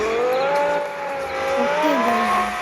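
Ferrari engine in the game Indian Theft Auto, a continuous synthetic engine tone sliding gradually in pitch, with a brief tire-squeal-like chirp late in the short clip, no voices over it.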